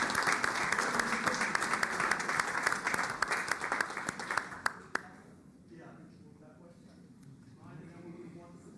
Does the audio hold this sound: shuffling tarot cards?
no